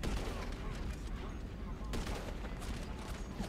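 Gunfire in the video game GTA V comes as a dense, continuous crackle of rapid shots, loud and close, with overlapping bursts and no clean gaps.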